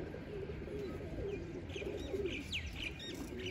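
Domestic pigeons coo repeatedly from a crowded loft coop, their soft rolling calls layered with a few higher chirps and brief wing flutters, all close and steady with no talk.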